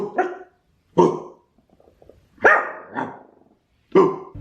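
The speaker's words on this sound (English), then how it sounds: "One more bark." A dog barks loudly and close by in four or five sharp, separate bursts with short silent pauses between them, and no one speaks.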